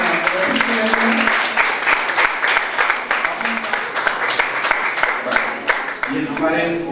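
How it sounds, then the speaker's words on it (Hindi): An audience applauds continuously at a school career counselling event in Umaria, with steady clapping running throughout and voices mixed in over it. "तो इस पर सबके लिए तालियां बजाइए।"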